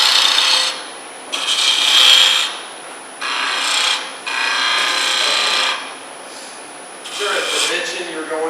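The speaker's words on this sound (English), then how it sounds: "This is just regular spindle turning." A wood spindle for a segmented baby rattle spins on a lathe while a tool cuts it, giving loud, close bursts of hissing, raspy scraping, each lasting one to two seconds, separated by short pauses.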